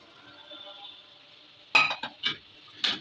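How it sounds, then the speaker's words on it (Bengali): Taro stolons are dropped into a simmering pot on a home stove, making a few close, soft clattering knocks and stirring scrapes over a faint background hiss. "কচুর লতিগুলো দিয়ে দিচ্ছি"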